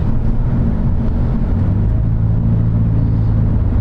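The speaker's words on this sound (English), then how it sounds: "It sounds like the rear wheel bearings are shot" A Subaru with worn rear wheel bearings cruises along, filling the cabin with a loud, steady low rumble and drone and no speech.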